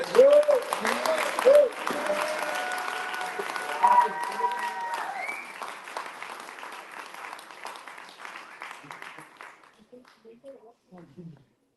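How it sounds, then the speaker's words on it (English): Enthusiastic crowd applause at a Workers Party GB political rally in Rochdale with George Galloway, sustained clapping mixed with cheers and whoops, loud and close at first, then gradually thinning and fading toward the end. "a round of applause for him"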